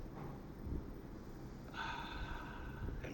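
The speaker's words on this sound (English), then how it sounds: "how about we take a deep breath? Let's go in and" Someone takes a deep breath in as part of a calming exercise, a soft, airy inhalation that rises and then holds, heard close up over faint room noise.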